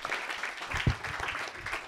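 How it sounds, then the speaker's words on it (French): Light clapping from a masterclass audience at a music and cinema session on Le Comte de Monte-Cristo, a short scattered patter heard close with a single louder thump partway through. "on peut les applaudir"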